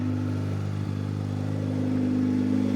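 A Toyota Celica GT-S Turbo idles through a straight-piped exhaust, a loud steady low drone with a brief dip and a slight rise in level near the end, heard alone.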